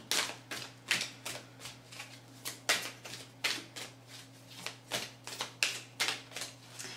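Oracle cards being shuffled by hand, a steady run of crisp riffling bursts repeating roughly twice a second at close range over a low constant hum, with no talking.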